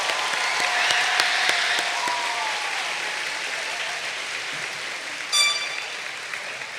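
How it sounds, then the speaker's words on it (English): A graduation audience claps for the board, staff and families in a broad, even wash of applause that slowly thins out, with a faint voice or two and a brief bright tone near the end. "Let's give a big round of applause to our board,"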